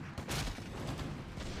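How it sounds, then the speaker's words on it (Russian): A mortar volley thunders in Warcraft 3 during a WCG 2019 match, a cluster of heavy, muffled blasts and impacts rumbling at moderate distance, with a sharper burst near the start. "опять залп от мортир"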